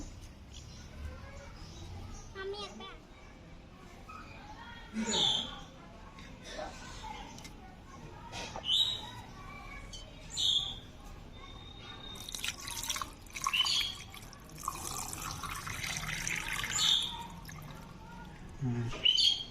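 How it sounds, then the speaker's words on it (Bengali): Mangoes are washed in water with soft splashing and dripping, sharper drips and trickles standing out at intervals while someone talks softly over it. "তো প্রথমে আমি আমগুলো ধুয়ে নেব।"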